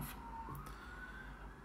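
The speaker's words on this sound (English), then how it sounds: "A police car has just gone past." A police car siren passes at a distance, faint and thin under a steady low background hum.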